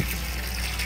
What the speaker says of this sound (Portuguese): E eu lavando a caixa das tilápias também